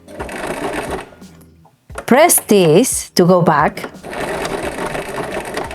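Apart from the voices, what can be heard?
sewing machine stitching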